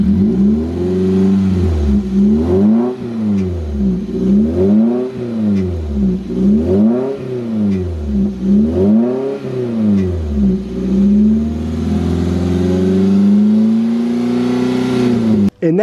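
A car engine, just fitted with new rod bearings, revs up and drops back in about five steady cycles of rising and falling pitch, then holds a higher idle before cutting off sharply at the end; loud and close, with no talk.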